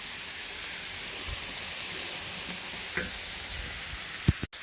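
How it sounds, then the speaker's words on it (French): Bacon lardons and onions fry in a pan with a steady, close hiss and gentle crackle, a faint clink near the end. "On fait bien revenir."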